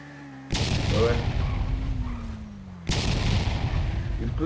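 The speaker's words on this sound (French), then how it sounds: "On entend des explosions." Two sharp, loud booms from explosions during a bank robbery, each a sudden blast with a long rumbling tail, heard about two seconds apart over a low background hum.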